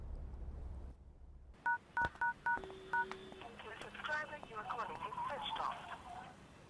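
Phone keypad tones beep in quick succession as a number is dialed in a dubbed Malayalam crime horror film, followed by ringing line tones and a muffled recorded voice from the handset, all fairly faint.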